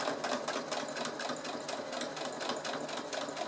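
A sewing machine sews a straight seam half a centimetre from the fabric edge, its needle chattering in a fast, even rhythm throughout, close and steady without pauses.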